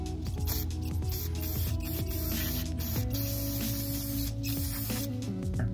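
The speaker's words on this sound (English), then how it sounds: "Spray some of that throttle plate cleaner in there." A steady hissing spray of throttle body cleaner into a Subaru throttle body runs continuously, close to the mic, with some mechanical clicks and rattles underneath.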